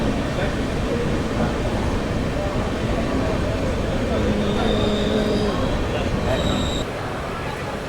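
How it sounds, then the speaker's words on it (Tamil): Rumbling rail noise of the Antyodaya Superfast train pulling into a crowded Indian station, with a constant roar, brief squeals and crowd babble around it. "ஸோ நம்ம ட்ரெயின் எங்கிட்ட அரைவல் ஆகுதுங்க."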